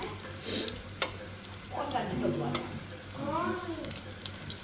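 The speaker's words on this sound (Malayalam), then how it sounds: "നല്ല ബ്രൗൺ കളറാകുന്നവരെ നമ്മൾ വറുത്തെടുക്കണേ." Potato bonda deep-frying in hot oil, a steady close sizzle with brief scraping stirs and turning, a voice briefly heard over the bubbling.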